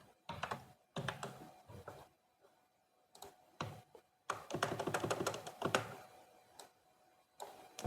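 Keys clatter on a computer keyboard while text is entered in AutoCAD, coming in irregular bursts of quick, close taps separated by short pauses, with no talking.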